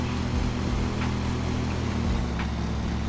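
An overloaded lawn mower engine in Lawn Mowing Simulator drones steadily with low harmonic hum, loud and continuous throughout, with no talk over it.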